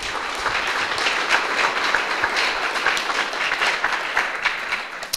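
A Cub Scout audience at a Blue and Gold ceremony applauds, a dense, steady wash of many hands clapping at fairly close range, with no voices standing out.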